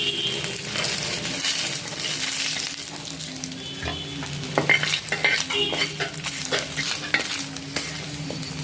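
Dried red chilies frying in oil in a pan after fish, sizzling steadily up close while a utensil stirs and scrapes in irregular bursts.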